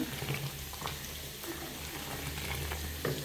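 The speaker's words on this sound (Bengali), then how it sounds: "এখানে পেঁয়াজ রসুন আর শুকনো মরিচ দিয়ে ভেজে নিচ্ছি" Onion, garlic and dried chili fry in a pan as tempering for lentils, giving a steady low sizzle and bubbling with a few faint stirring scrapes.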